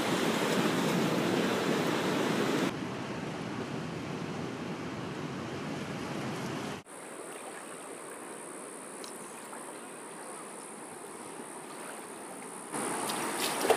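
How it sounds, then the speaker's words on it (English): Clark Fork River near Missoula, Montana flowing as a steady broadband rush of water, loud and continuous, with a change in tone partway through as if the listening position shifts. "Hack and I are at the Clark Fork River near Missoula, Montana"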